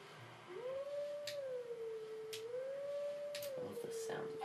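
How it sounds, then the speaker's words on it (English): In the Zelda Twilight Princess video game, a single long wolf howl rises and falls in a smooth wavering tone and holds for several seconds, with occasional faint clicks. "I love the sound of this howl."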